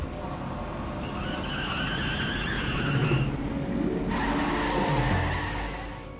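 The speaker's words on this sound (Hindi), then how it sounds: "अब गाड़ी क्यों रोकी?" A car slows and brakes to a stop with a drawn-out tire squeal over a continuous road and engine rumble, loud throughout.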